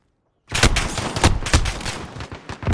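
Gunfire in a Call of Duty 3v3 Gunfight match: after a moment of silence a loud, dense burst of rapid shots erupts and keeps going, with sharp cracks layered over a heavy rumble.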